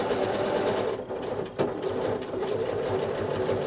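A sewing machine doing free-motion quilting, travel-stitching along a heart shape, runs in a steady close whirring hum with one brief slowdown partway through.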